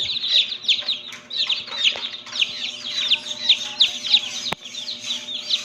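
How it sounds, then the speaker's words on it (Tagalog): Rhode Island Red chicks peep in a dense, continuous chorus of high chirps under a red brooder light, many overlapping calls close by with a steady low hum beneath. "Yan malulusog po yung sisiw."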